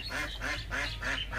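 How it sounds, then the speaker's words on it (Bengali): White domestic geese calling close by with a steady series of nasal honking calls, several overlapping birds repeating at a regular rhythm over a constant low background hum. "দেখতেই পারতেছেন কি সুন্দর সাদা হাঁস"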